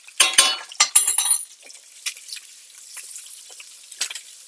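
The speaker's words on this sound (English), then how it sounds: "Make sure that sorghum is getting toasted nicely, and it's also in 2 tablespoons of butter" Sorghum toasting in butter in a pan gives off crackly, sizzling bursts and a couple of clinks near the start, fading into quieter, scattered pops and crackles.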